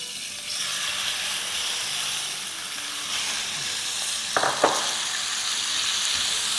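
About half a kilo of chicken keema hitting hot oil, a loud continuous sizzle with occasional stirring clatter and a couple of sharp metallic knocks, no voices.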